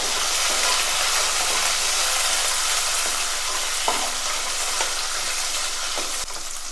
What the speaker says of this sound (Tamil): இந்த வெங்காயம் நல்லா வேகட்டும். இந்த ஆயிலே நல்லா வேகட்டும்.